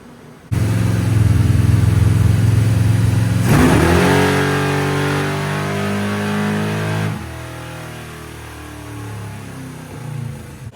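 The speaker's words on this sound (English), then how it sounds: "I want to go ahead and make one more pull on motor." A Chevrolet Malibu engine on a dyno making a pull without nitrous, a loud, close roar that rises steadily in pitch through the run, then drops back and fades as the throttle closes.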